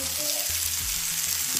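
Oil sizzles steadily on a hot griddle for thalipeeth, a loud, continuous hiss with a few faint scrapes and stirring knocks underneath.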